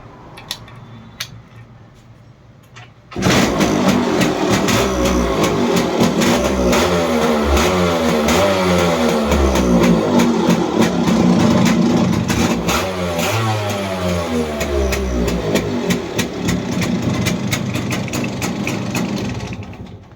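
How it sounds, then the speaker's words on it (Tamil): After a few quiet seconds, a Yamaha RX 135 two-stroke motorcycle engine kicks into life and settles into a loud, steady, rattling idle with slight revving. "இப்போ இந்த வண்டி இன்ஜினை வந்து ஸ்டார்ட் பண்ணி பார்ப்போம் எப்படி இருக்குன்னு."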